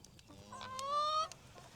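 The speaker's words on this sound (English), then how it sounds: "The chickens are all over here waiting." Chickens gather near a farmyard fence and a nearby hen lets out one drawn-out, rising cluck, with faint clucks from the flock before and after.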